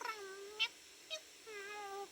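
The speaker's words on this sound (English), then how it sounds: "Aren't you a fine-looking cat?" A cat meows several times in a quiet setting, drawn-out tonal cries with short sharp chirps between them, close and clear with no talk over it.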